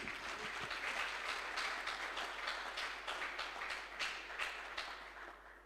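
A church congregation claps together during a deliverance testimony service, a fairly faint but steady roll of many hands clapping at once, lasting several seconds and easing off slightly at the end.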